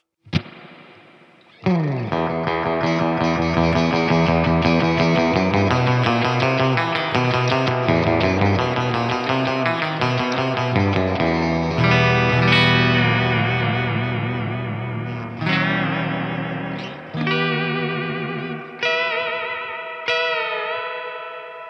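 Electric guitar with a Fender-style vibrato bar playing sustained, wavering chords with a pulsing tremolo and a wash of reverb, ending with a few separate plucked notes ringing out.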